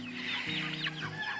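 Several chickens cluck close by in a short burst, soft repeated throaty calls overlapping one another, near and moderately quiet with no talking.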